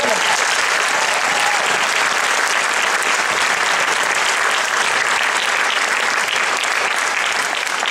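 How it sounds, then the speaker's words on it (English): A lecture audience in Long Beach breaks into a loud, sustained round of applause, thick and continuous from start to finish. "How about another round of applause?"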